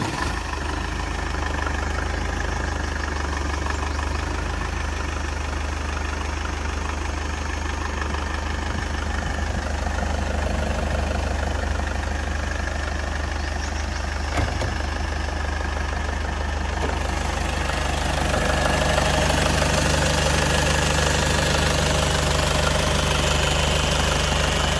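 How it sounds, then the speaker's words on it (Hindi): A used diesel car engine idling steadily after being started, a continuous low rumble with a faint knocking clatter, heard alone and close, slightly louder toward the end. "तो संजय भाई एक बार गाड़ी को स्टार्ट कर दीजिए।"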